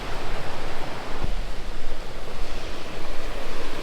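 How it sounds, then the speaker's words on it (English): Artist Falls, a waterfall beside an Adirondack mountain trail on the way to Colvin, pours out a steady, loud broadband rush that holds evenly from start to finish, with no voices over it. "Beautiful waterfall right here, Artist Falls."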